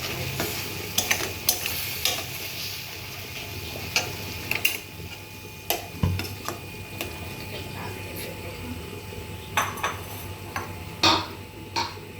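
Dried laitta fish shutki stir-fried in a pan: a utensil scrapes and taps the pan in an uneven rhythm over a continuous, moderate sizzle close by.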